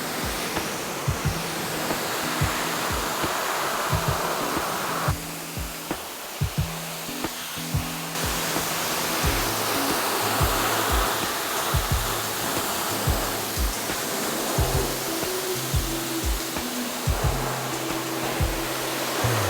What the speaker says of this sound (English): I'm just using my pressure washer to blast away that surface dirt and gunk.